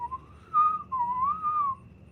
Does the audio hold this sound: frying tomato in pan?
no